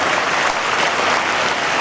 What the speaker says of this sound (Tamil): கைத்தட்டுங்க, சந்தோஷமா இருக்கு.